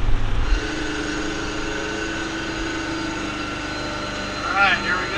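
A 1975 fire truck's engine labors steadily uphill at low speed, a loud continuous droning roar with strong tonal hum and no pauses, with a brief voice near the end.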